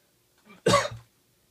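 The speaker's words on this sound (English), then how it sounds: "I had to cough." A single short, close cough from a man, preceded by a faint intake of breath, in an otherwise quiet room.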